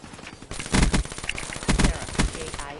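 Rapid bursts of automatic gunfire in a first-person shooter video game, loud and close, with the player being hit from behind in clustered volleys.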